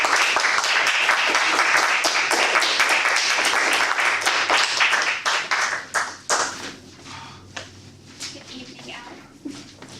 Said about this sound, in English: Everybody please give a round of applause to Manoli.